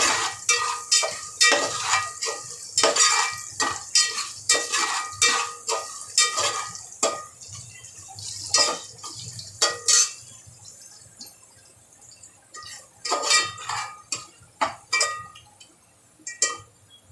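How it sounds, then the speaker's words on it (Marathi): Crushed ginger and garlic cooking in a pan, heard as a series of sharp metallic clinks and scrapes from stirring, irregular and fairly close, over a faint quiet sizzle, with no talking. "लसूण आपलं चांगलं परतून घ्यायचं आहे,"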